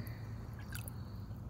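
Lemon juice poured into a baking-soda plant wash mixture, a quiet, brief splash and trickle against a low steady hum.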